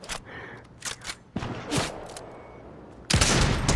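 Sniper rifle shots in a 1v1 video game match ring out as several sharp, loud cracks, with sparse bursts early on and a heavy blast near the end, and no talking over them.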